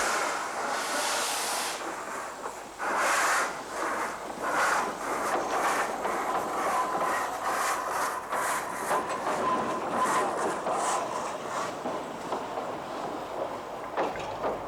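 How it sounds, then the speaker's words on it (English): A small 1926 Peckett and Sons steam locomotive named Peter chuffs steadily along the Puffing Billy Railway at Gembrook, its regular exhaust beats rising over a broad rushing hiss. "The motive power on the isolated Gembrook section fell to a small Peckett locomotive"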